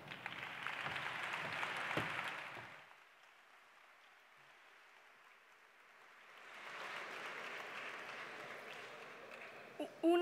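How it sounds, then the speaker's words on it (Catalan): Applause from an audience at a university graduation ceremony swells for a few seconds, drops to near silence, then rises again as a second round of clapping, heard at a moderate distance in a large hall. "Un aplaudiment."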